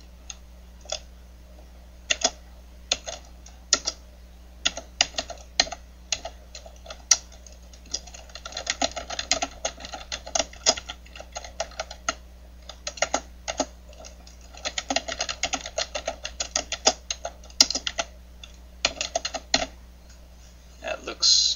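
A computer keyboard clicks through a typed password during a domain registration setup, soft scattered keystrokes in irregular bursts over a low steady hum, with quiet speech now and then.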